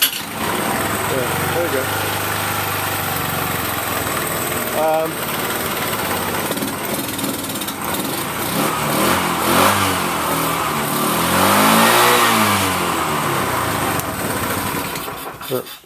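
A Bajaj Chetak scooter engine, started without the choke in a small garage, runs close and loud with a buzzy, uneven idle and a gentle rise in revs. Someone speaks briefly over it.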